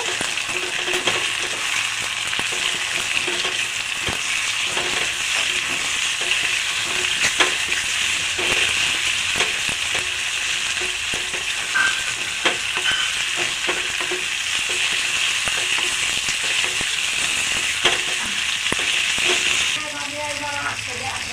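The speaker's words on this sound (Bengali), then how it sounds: "পেঁয়াজটা ভাজতে ভাজতে পেঁয়াজের মধ্যে দিয়ে দেবো নুন হলুদ মাখানো চিংড়ি মাছটাও। সব একসাথে নেড়ে ছেড়ে ভেজে নেব।" Onions and turmeric-salted prawns frying together in a pan, a continuous sizzle with repeated scraping taps of a stirring spoon, close and steady throughout with no talk.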